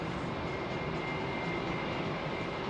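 Airliner departing Heathrow, a steady broadband jet roar with a faint high whine, constant and fairly distant, no voices.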